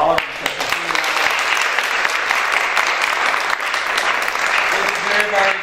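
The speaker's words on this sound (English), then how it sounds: "Let's take one more chance to just applaud for all of you." A poetry competition audience claps loudly and continuously, the applause packed and sustained, with a few voices faintly audible underneath.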